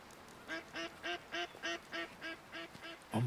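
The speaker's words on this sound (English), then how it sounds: "Oh my god, those ducks are just overpowered." Ducks in the hunting game Way of the Hunter quack in a rapid, even series of about ten loud calls, followed by a brief low thump at the end.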